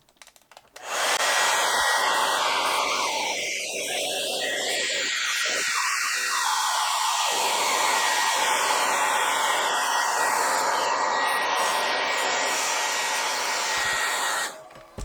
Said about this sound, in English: we're gonna get the hairdryer and we're gonna hair dry this whole top